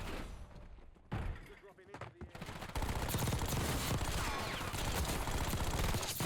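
Footsteps landing on concrete after a jump down from a metal roof in Call of Duty: Warzone, as a loud, dense burst of game noise with heavy gunfire-like crackle that runs continuously to the end, after quieter scattered impacts.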